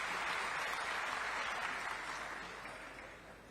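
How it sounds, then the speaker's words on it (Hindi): Crowd at a political rally in Raipur, with Chief Minister Vishnu Deo Sai present, claps as a local MLA is introduced: broad, sustained applause heard fairly faint and from a distance, tapering off toward the end. "जोरदार तालियां"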